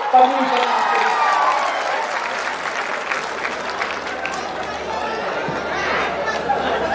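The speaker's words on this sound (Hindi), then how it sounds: "आगे से पीछे तक जोरदार तालियां बजा करके" Loud, steady applause from a large audience at a Gorakhpur Mahotsav poetry gathering on a cold night, sustained clapping with some crowd chatter mixed in throughout.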